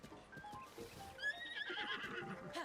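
A horse neighs and whinnies in the video game Zelda Tears of the Kingdom, a clear rising whinny heard over soft background game sounds, with light hoof clip-clop and no talk.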